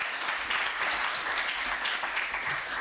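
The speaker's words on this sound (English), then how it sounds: "she deserves another round of applause" A university audience at a research and innovation week event gives a steady round of applause, even and moderately distant, filling the moment without speech.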